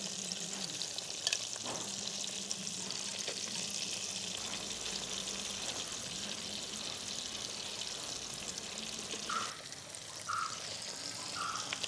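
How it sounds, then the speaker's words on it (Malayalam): Chicken pieces frying in hot oil for chicken pulao, a steady dense sizzle that stays close and even throughout, with occasional faint clinks and stirring noises. No one speaks. "ഇപ്പോൾ നമ്മുടെ ചിക്കൻ ഏകദേശം ഹാഫ് ഫ്രൈ ആയിട്ടുണ്ട്"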